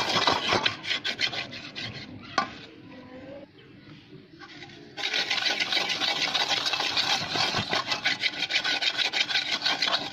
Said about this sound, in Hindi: तेल छानने के बाद जो बाकी मवाद बच जाएगा उसे कढ़ाई में डालकर अच्छी तरह रगड़ाई कर लें।